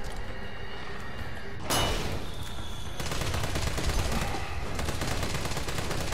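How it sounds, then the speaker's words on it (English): Assault rifle fire in Resident Evil 3 erupts as a sustained, loud burst of rapid shots that runs almost unbroken for several seconds. "we're going to empty a freaking clip of assault rifle on him"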